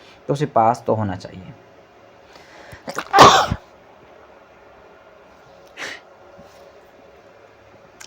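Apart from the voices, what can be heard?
sneeze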